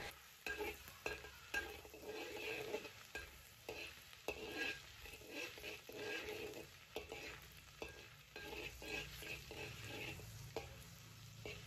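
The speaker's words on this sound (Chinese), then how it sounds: "慢慢把猪油炼化，跟着呢，就可以下入蒜末、干辣椒了" Garlic and dried chili stir-frying in melted lard in a wok, with steady close sizzling broken by repeated scraping stir strokes, loud and continuous without talk.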